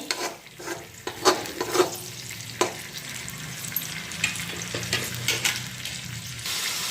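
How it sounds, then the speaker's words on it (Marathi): Finely chopped garlic cloves frying in hot oil for a Maharashtrian roasted-eggplant bharit, a steady close sizzle broken by several sharp scrapes and clinks of stirring, with no voices. "आता याच्यामध्ये मी तेल टाकते आणि असं चांगला गुलाबी होईपर्यंत आपल्याला तो भाजून घ्यायचा आहे"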